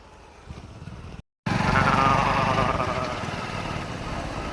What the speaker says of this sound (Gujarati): આજ તો એક્ટિવાને રાઉસ કરવાની છે.